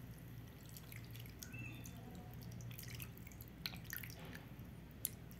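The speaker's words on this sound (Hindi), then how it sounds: "इस तरह हम अब पानी डाल के इसे साफ़ कर लेंगे" Water poured over a kitchen item to rinse it clean, heard as steady soft dripping and splashing with a low hum underneath and a couple of sharper drops near the end.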